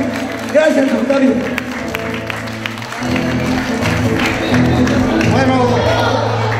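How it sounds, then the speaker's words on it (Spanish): An audience at a patron saint festival in Chalhuanca, Peru, gives a round of applause that swells and holds, mixed with held musical tones and a crowd murmur, with a voice speaking over it. "despidamos fuertes palmas a Octavio"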